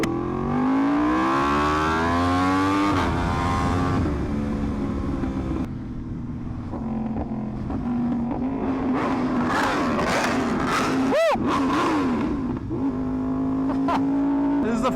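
Two superbikes, a Yamaha R1M and an Aprilia RSV4, rev loudly nearby, their engine notes climbing and falling in sharp blips and sustained wails, with a quieter gap midway and voices in the background.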